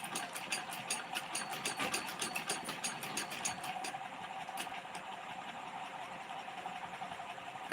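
A sewing machine runs in fast rhythmic bursts of stitching, quieter and steadier toward the end, heard fairly close with no speech over it.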